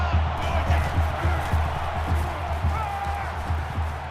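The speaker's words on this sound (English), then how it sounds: "The crowd at this stadium, always a factor in a football game." Stadium crowd at a Michigan at Oklahoma college football game in NCAA 14: a dense, steady roar of cheering fans over a regular low thumping pulse, loud and continuous throughout.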